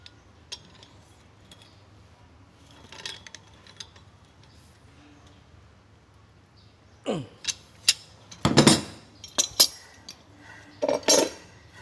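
Metal parts of a water pump clink and tap sharply in a few scattered clusters while the impeller is being assembled, with a quiet room hum between the knocks.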